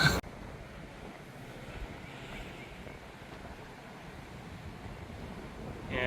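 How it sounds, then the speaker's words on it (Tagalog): Wind blows at the top of an old lighthouse, a steady faint rush with soft buffeting against the microphone and a few brief knocks. "Lakas ng hangin."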